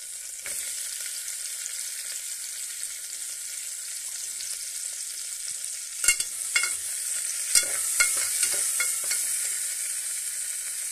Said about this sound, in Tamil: தேங்காய் எண்ணெய் விட்டுட்டு மிளகா போடுறோம். மிளகா போட்டுட்டு வெங்காயம் போடுவோம்.